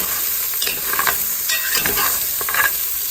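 About 1.5 pounds of sausage browns in a pan with a steady close sizzle, broken by several scraping stirs of a utensil; no voices.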